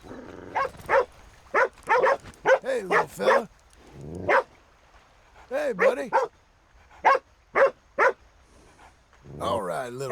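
A puppy in the video game Red Dead Redemption 2 gives a run of short, sharp yips and barks in uneven bursts near the listener, with someone speaking softly to it between and over the sounds.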